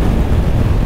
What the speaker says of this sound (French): je vais fermer parce qu'il y a beaucoup de vent